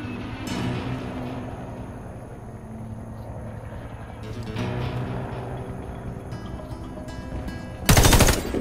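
Rapid automatic gunfire from the shooter game Warface, bursts aimed at practice targets in a training range, loud and continuous with a sharper crack near the end, no talk.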